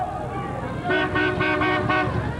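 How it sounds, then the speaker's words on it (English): Passing motorists honk car horns outside an aldermanic office during a 1987 Chicago street demonstration, several short toots in a row over traffic noise and crowd murmur. "Organizers were asking motorists driving by the Aldermanic office to honk their horns if they favored no deals."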